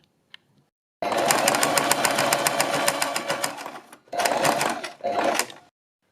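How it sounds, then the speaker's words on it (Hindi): Sewing machine stitching the edges of neck strips for a suit or kurti, a loud, close, steady rattling run of about three seconds, then two shorter bursts with brief pauses, no talk. "दोनों पट्टियों के किनारे पर मैंने सिलाई लगा लिया"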